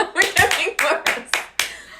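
A handful of loud, close hand claps by podcast hosts, sharp separate slaps in an uneven rhythm with a faint snicker mixed in.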